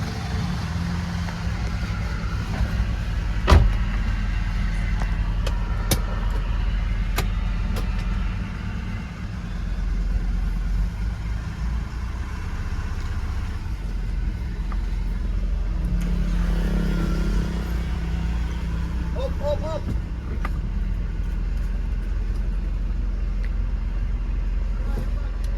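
Mitsubishi Pajero with stiff steering out on a test drive, a steady low engine and road rumble heard from inside, moderate and continuous with a few sharp clicks and knocks along the way.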